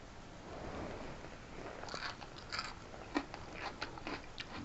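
Someone chews a mouthful of pork and cabbage stir-fry with onions and carrot, soft close crunching and moist bites in an irregular rhythm, quiet and without talk.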